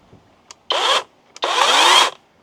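A SEESII 40V battery-powered chainsaw revs in two short bursts, the second longer. Each burst is a loud, close whine that cuts off abruptly, with faint clicks in between.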